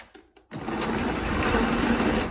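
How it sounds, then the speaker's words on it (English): A Vitamix blender motor kicks in on low speed after a few soft clicks, then holds a steady whirring drone to the end. "whenever you start a Vitamix, you start on low, and then you walk it up, and then you can flip it to high"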